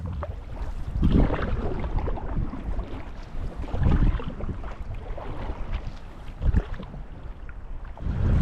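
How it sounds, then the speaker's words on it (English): A solo canoe moves down a Yukon wilderness river with rhythmic paddle strokes, soft splashes and swishes under steady wind rumble, repeating every couple of seconds close to the microphone. "So I am in the final paddle strokes of this adventure."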